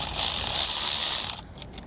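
A ratchet fitted with a 13mm socket tightens a bolt on an L bracket, giving a fast, continuous buzzing clatter for over a second before stopping, close and alone.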